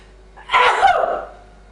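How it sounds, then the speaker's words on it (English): A single sharp sneeze triggered by pepper, close and sudden, with a quick breathy intake before it and a trailing exhale after, otherwise quiet. "Oh, it was a real sneeze, okay? That's from the pepper."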